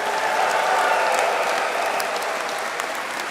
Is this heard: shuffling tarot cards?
no